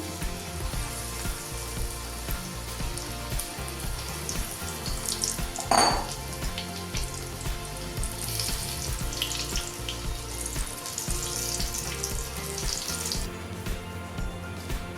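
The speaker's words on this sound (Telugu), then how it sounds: "ఆయిల్ బాగా వేడైంది కదా, ఒక్కొక్క లెగ్ పీస్ వేసుకోవాలి." Chicken leg pieces fry in hot oil for homemade KFC-style chicken, giving a continuous close sizzle with a louder splash and crackle burst partway through as a piece goes in.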